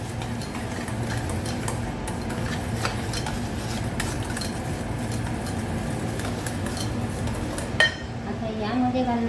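Oats biscuit dough being mixed in a bowl, with soft scraping and clinking of a utensil against the bowl in a loose, repeated rhythm, close and fairly quiet, with a sharp knock near the end.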